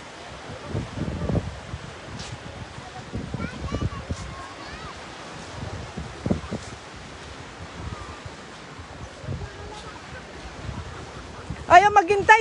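At the seashore, wind and surf make a rough, gusty wash with bursts of microphone buffeting, close and fairly loud, as people walk and talk over it.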